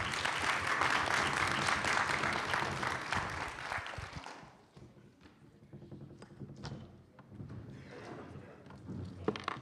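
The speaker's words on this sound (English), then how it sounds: "please join me in giving them a big round of applause" Conference workshop audience gives the panel a round of applause, a full burst of clapping for about four seconds that fades into scattered claps, thumps and room noise.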